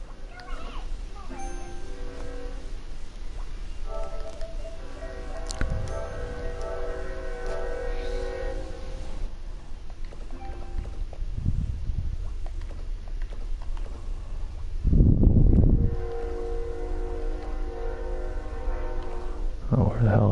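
A train rumbles past near a rallycross course at Daytona, its horn sounding in long sustained blasts over steady wind and background noise while people talk throughout.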